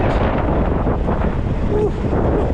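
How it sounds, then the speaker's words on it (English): Wind gusts outdoors in wintry weather, buffeting loudly and continuously as a dense, unbroken roar across the microphone. "Can you hear the wind?"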